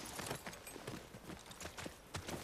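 Hooves clip-clop in The Last of Us Part II, an uneven run of quiet, fairly close hoof strikes over low background noise, with no talking.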